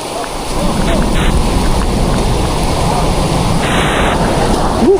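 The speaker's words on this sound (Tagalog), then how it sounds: "Lakas ng ulan." Heavy rain pours steadily on a farm in a rural area, a dense constant roar close by, with low thunder rumbling beneath it and a few faint voices in the background.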